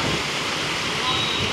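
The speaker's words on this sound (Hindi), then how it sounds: "इतना तेज़ वेव है पानी के अंदर।" Fast-flowing floodwater in Gopalganj, Bihar, a constant dense rushing wash with waves, loud and close, with no clear breaks.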